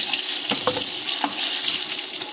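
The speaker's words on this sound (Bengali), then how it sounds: "আর অপর পিঠটা ভালো করে ভেজে নেব একইভাবে" Boro fish pieces frying in hot oil in a pan for a spicy Bengali fish curry, a steady close hiss with a few soft clinks and taps from turning the pieces.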